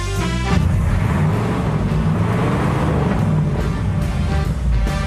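A deep, steady V8 car engine rumble runs throughout, low and rich, holding a constant loud level without pauses.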